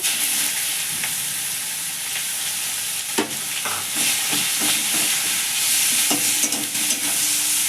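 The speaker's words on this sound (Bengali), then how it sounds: "পেঁয়াজটা হালকা লাল লাল করে ভেজে নেব।" Chopped onion frying in oil with panch phoron spices, a steady close sizzle broken by intermittent stirring scrapes and light utensil knocks.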